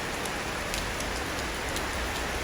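Rain falls steadily outside an antique house in the Philippines, a dense, even hiss with scattered close drips tapping on surfaces, and no voices.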